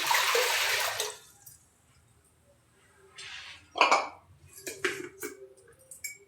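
Water poured from a vessel into a cooking pot for wheat starch kurdai, a rushing splash at first, then quiet, followed by scattered sloshing and clinks of metal utensils.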